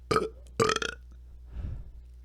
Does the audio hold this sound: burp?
yes